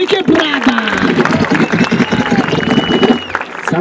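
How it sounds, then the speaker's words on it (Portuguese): Crowd at an outdoor rap battle applauding, a dense continuous patter of clapping mixed with shouting voices, loud and steady throughout. "Palmas pro do rap aí, quebrada."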